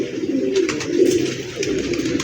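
Highflyer pigeon cooing close by, a low steady murmuring coo that swells and fades over a couple of seconds, with no voices over it.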